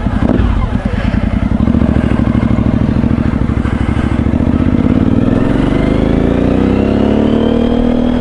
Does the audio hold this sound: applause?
no